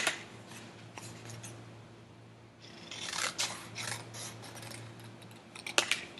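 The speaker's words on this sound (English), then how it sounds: "You could draw a shape first and then cut on the lines that you drew." Scissors snip through paper to cut a heart shape for a collage, producing a run of crisp, close cutting strokes and soft paper rustles in a quiet room, with no voices.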